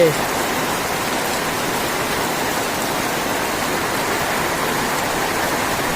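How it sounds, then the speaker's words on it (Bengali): Heavy rain pouring down steadily at night, a dense, unbroken roar of falling water that stays loud and even throughout, with no voices. "এরকম এরকম জোর বৃষ্টি হচ্ছে কার কার ওখানে বলবে"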